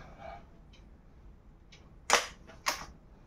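An SDB Sniper Nitro toy blaster fires two sharp, loud snapping shots about half a second apart, each with a short hissing tail, after a few fainter clicks.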